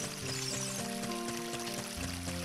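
Water gushes steadily from a giant crack in a wall in Ocarina of Time, a continuous rushing flow with layered game music tones running alongside it.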